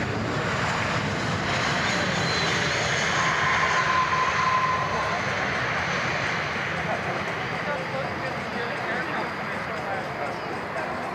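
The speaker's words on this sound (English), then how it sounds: "Coming up next is going to be 737 MAX 8 landing here at London International Airport" A Boeing 737 MAX 8 airliner landing at London International Airport in Ontario, heard from a taxiway as a steady, broad jet roar that holds loud and continuous throughout, with wind noise mixed in.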